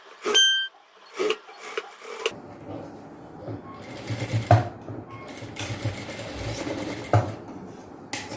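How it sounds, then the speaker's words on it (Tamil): Sewing machine stitching the hem of a boat-neck princess-cut blouse, running in short bursts and then a longer steady whirring run, close by with soft handling noises between stretches. "நான் வந்து தையல் தான் போட போகிறேன்."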